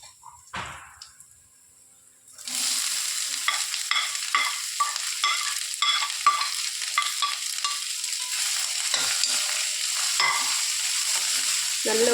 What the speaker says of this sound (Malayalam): ഇതിലോട്ട് നമുക്കിനി സവാള ഇട്ട് കൊടുക്കാം.